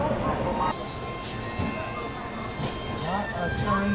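Amrit Bharat Express rolls into Pandit Deen Dayal Upadhyaya Junction in heavy rain, a steady rumble of coaches and wheels heard from on board, with a voice faintly over it.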